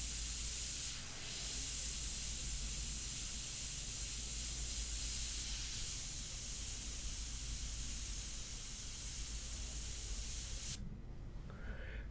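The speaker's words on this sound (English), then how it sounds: "you have such great control with this airbrush" An airbrush sprays India ink onto paper with a steady, loud hiss that runs unbroken for about eleven seconds before cutting off.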